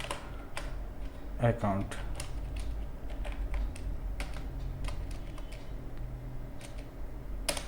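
Scattered keystrokes tap on a computer keyboard while entering data in Tally Prime accounting software, irregular and close but fairly soft, with a brief spoken word near the start.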